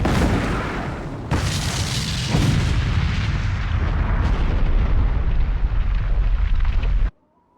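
A bomb goes off in the video game Eiyuden Chronicle: Hundred Heroes with a sudden heavy blast, then a long, loud, rumbling roar that keeps going for several seconds before cutting off abruptly, with no voices over it.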